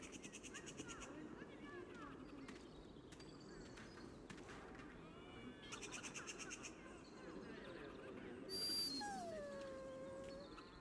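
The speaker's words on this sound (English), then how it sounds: "Puppy!" A dog in the Dragon Age Origins video game gives a few whimpering, howling cries over a steady background game ambience and murmured talk, ending in a longer whining tone.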